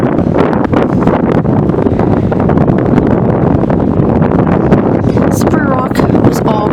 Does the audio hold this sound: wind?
yes